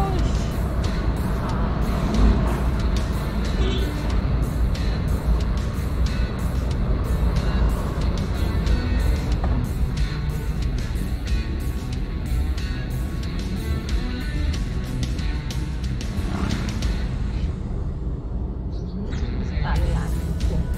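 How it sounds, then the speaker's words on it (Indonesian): A car pulls away and accelerates on a mountain road toward Magelang via Selo, Boyolali, with a loud, steady engine drone and road rumble throughout while people talk over it. "Oke, kita tancap gas, guys"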